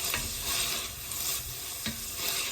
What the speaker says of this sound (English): Sorry about the noise of the sizzling.